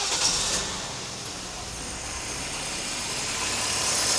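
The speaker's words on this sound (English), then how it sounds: "We're going to start the car." A Toyota Echo with a bad vibration idles after starting, a brief burst at the start giving way to a steady, even engine hum nearby.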